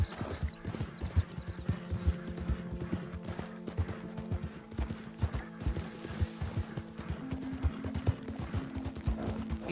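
Horse galloping in Red Dead Redemption 2, a steady, rapid drumming of hoofbeats with creaking tack running throughout, mid-distance, no one talking.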